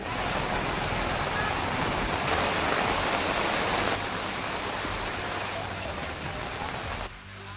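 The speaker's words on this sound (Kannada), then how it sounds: "ಬೆಳಗಾವಿಯಲ್ಲೂ ಸಂಜೆ ಧಾರಾಕಾರ ಮಳೆ ಸುರಿಯಿತು" Heavy evening downpour in Belagavi, Karnataka, a dense continuous roar of rain pouring steadily, loud and unbroken, easing slightly near the end.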